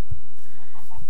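Short clucking calls from chickens in the Minecraft Direwolf20 modpack, a couple of low clucks close and clear, with no talking.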